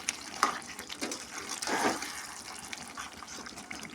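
Water is splashed into a pan of home-style chicken gravy, giving soft, brief sizzling gushes against a quiet kitchen background with no voices.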